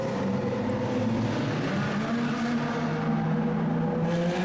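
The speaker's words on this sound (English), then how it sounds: "Epic convoy through the Monaco tunnels with some insanely loud supercars, and this Aventador just flamed consistently." Lamborghini Aventador and other loud supercars driving in convoy through the Monaco tunnels, a continuous reverberant engine roar with steady drone and rumble throughout, no talk.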